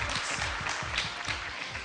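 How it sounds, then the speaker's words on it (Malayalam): Dense, steady applause from a live audience at a junior singing contest show, loud and continuous with rapid overlapping claps and no break. "ശ്രേയസിന് വേണ്ടി ഒരു വലിയ കയ്യടി കൊടുക്കാം നമുക്ക്."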